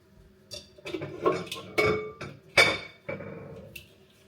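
Porridge being put into a microwave-safe bowl in a home kitchen, with several sharp clinks and clatters of a spoon and bowl at irregular intervals, close up and with no talking.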